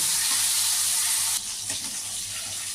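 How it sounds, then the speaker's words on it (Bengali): Tengra fish frying in hot oil gives a steady, loud hiss and crackle throughout, easing slightly halfway as the sizzle settles, with no voices. "এভাবে আমি দু তিনবার চারবারে মাছগুলো ভেজে নেব"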